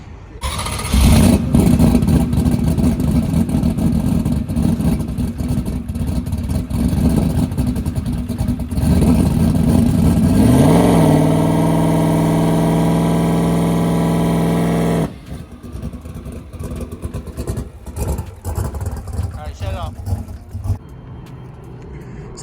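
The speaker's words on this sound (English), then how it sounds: "Let's see if it spools up a little bit better now." A Ford Coyote V8 with a 107mm turbo revs loudly, its pitch rising and holding as the turbo spools, then the note drops away to a rougher idle with clattering, very close and loud.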